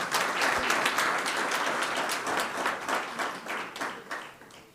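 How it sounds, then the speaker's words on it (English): An audience applauds at a Council of the Built Environment and University of Johannesburg event during an appreciation gift presentation, with dense sustained clapping that gradually thins and fades toward the end, with no speech over it. "Well, we can clap hands for Mr. Kobus."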